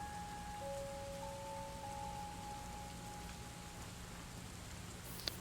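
Soft, steady rain falling as background ambience for a tabletop game session, faint and even, with a thin tonal hum running through part of it.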